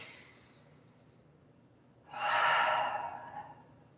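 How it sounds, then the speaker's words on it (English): A slow, deep breath drawn in through the nose and released through the mouth during a morning yoga session, close and alone: a soft, long hiss that grows to a louder, airy exhale in the second half. "Give yourself one more good inhale through the nose and exhale out the mouth."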